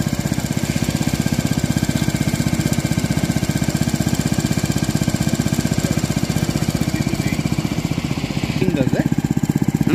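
A sugarcane juice-extracting machine runs steadily at a roadside stall, its motor giving a loud, continuous, rapidly pulsing mechanical drone close by that holds without a break.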